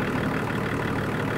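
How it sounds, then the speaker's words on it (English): Range Rover P38 engine idling smoothly after a crank damper repair, a steady close mechanical rumble with an even low throb and no pauses. "So now that she's idling away there nicely, sounding really nice after we did that crank damper."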